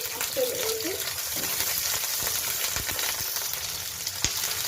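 Sliced onion and garlic cloves frying in a pan for fish bharta, a steady soft sizzle throughout with a few light clicks of stirring.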